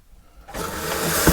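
Water bursting from a motorhome shower head, a sudden hiss of spray that starts after a quiet moment and continues steadily, close and fairly loud.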